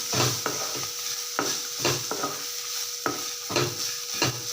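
Grated coconut sautés in hot oil in a pan, a close steady sizzle punctuated by rhythmic spatula scrapes and knocks roughly twice a second.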